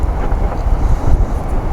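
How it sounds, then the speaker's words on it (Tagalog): A blower forces air into a wood campfire at a rainy, windy solo campsite, making a loud, steady rushing roar close to the microphone for about two seconds with no talk. "Meron tayong stunt blower."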